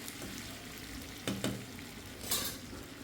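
Mutton pieces cooked with salt and chilli fry in a pan, giving a steady, soft sizzle with a few brief stirring scrapes and clinks partway through.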